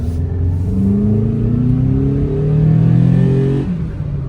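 Toyota fitted with a cold air intake accelerating at full throttle, a loud engine roar rising steadily in pitch for several seconds before easing off near the end.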